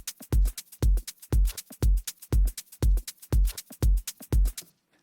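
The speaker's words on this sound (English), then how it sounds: "we have the kick and the percussion, which sound like this" A kick drum and percussion loop taken from Apple Loops repeats alone, with ten heavy, evenly spaced kicks about twice a second, each topped by bright percussive hits, stopping near the end.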